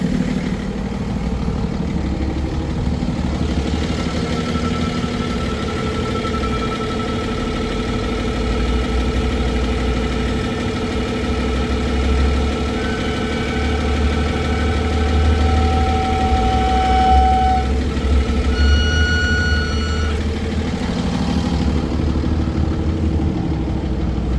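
A 2012 Freightliner M2 Altec forestry bucket truck idles with its PTO switched on, a steady, close diesel rumble with faint whining tones rising and shifting midway, no voices.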